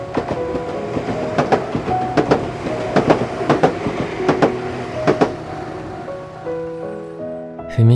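A train rolls past, its rail cars beating out a loud, rhythmic clickety-clack over a rumbling hum before the clatter fades and a sustained tone remains.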